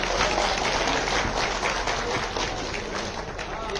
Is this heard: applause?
yes